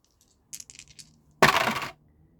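White marble dice with gold inlay clatter across a surface in a single loud burst of tumbling, following a few lighter clicks as they are shaken.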